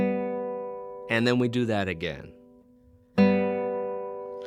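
A classical guitar rings out with the thumb and ring finger pinching the two outer strings together, two sustained plucks separated by someone talking between them.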